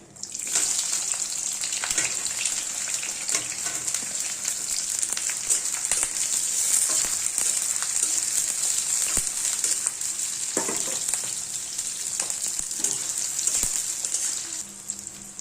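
Onions fry in hot oil with bay leaves, a steady bright sizzle holding at even loudness throughout, with light stirring scrapes now and then.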